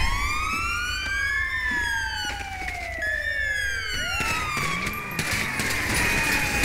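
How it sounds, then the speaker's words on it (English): A police siren in GTA V, from a British MET patrol, wails loud and close, its rising and falling tones sweeping continuously and shifting pitch as the vehicle moves, with no voices over it. "I can't tell you how annoying that siren is."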